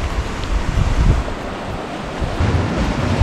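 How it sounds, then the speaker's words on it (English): Ocean waves surge and break on a rocky shore near a wild campsite, a loud rumbling wash with gusts of wind buffeting the microphone. "A few big waves come in every now and then"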